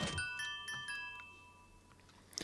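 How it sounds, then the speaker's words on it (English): A doorbell melody built in the video game Minecraft rings out as a few bright chime notes in quick succession, then a sustained tone lingers and fades quietly. "This kind of resembles a doorbell"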